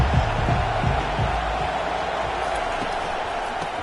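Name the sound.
stadium crowd cheering at Ohio State vs Michigan football game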